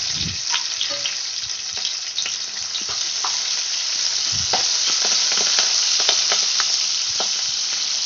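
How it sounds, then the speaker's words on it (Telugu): Curry leaves with onions fry in hot oil in a pan, giving a steady, dense sizzle with crackles and occasional stirring scrapes, close and unbroken throughout. "కరివేపాకు మంచిగా మంచిగా ఫ్రై అయిన తర్వాత"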